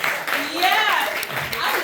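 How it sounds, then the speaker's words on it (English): Audience applause at a live comedy Q&A, a short burst of clapping from a crowd mixed with voices talking and cheering over it. "Let's get a round of applause."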